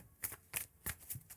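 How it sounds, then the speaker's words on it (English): Cards being shuffled close by in a quick series of soft riffling bursts, quiet and rhythmic, with no talking. "Shuffle it one more time."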